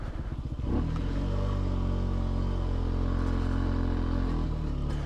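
A 2022 Benelli TNT 135 motorcycle engine running while riding in low first gear, a close, steady buzzing drone with a brief revving change near the start.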